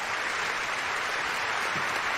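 Broadband applause from an awards-ceremony audience greeting a winner, a dense, even roar of clapping with no distinct individual claps, steady throughout and fairly faint.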